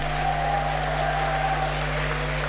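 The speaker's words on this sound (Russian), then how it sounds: "Ваши аплодисменты, Eternal Envy!" Dense, sustained applause from a large audience at an esports match fills the space, a continuous wash of clapping with a steady hum underneath.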